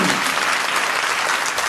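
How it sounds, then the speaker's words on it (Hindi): Dense, steady applause from an audience at a Hindu Bhagwat katha, a religious discourse, with many hands clapping together at a constant close level for the whole short stretch. "जोर से ताली बजाइए ठाकुर जी के लिए"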